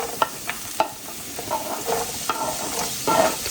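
Chopped onions sizzle in hot olive oil, a steady crackling fry broken by a few sharp stirring scrapes and clinks of a utensil against the pan, close and moderately loud.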